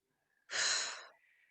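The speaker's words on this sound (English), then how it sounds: "Breathe out." A single soft, breathy exhale during a guided breathing exercise lasts about half a second, up close and quiet, followed by a faint trailing hiss.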